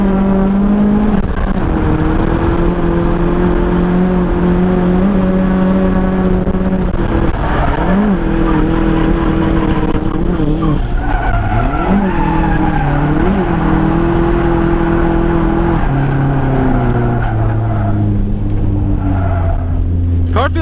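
A drift car's engine runs at a track drift event, droning loudly with strong harmonics that waver and rise, then settle into a lower, steadier tone toward the end.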